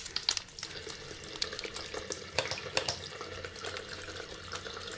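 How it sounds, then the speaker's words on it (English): Warm water runs from a tap as hands are wet and soaped at a sink, giving a close, steady splash with irregular spattering bursts, and nobody talks. "Wet your hands under warm running water and add soap."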